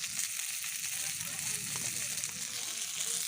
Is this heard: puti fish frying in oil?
yes